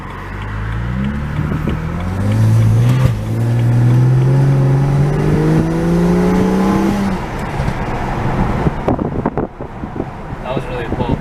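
A BMW 335i engine, not in sport mode, revs up hard during full acceleration, its pitch climbing steadily for several seconds before easing off, with wind noise and voices around it.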